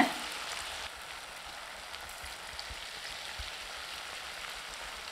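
Batter-coated cauliflower pieces fry in hot oil with a soft, steady crackling hiss. The sizzle is fairly faint and uniform, with occasional small pops and a slightly louder burst at the start.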